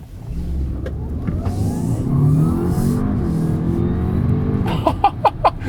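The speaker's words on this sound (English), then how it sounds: "Wet road and accelerating out of the corner." A 2020 Audi A7 plug-in hybrid with quattro all-wheel drive accelerates hard out of a corner on a wet road, its engine note climbing steadily through the gears under continuous road rumble, with a few sharp knocks near the end.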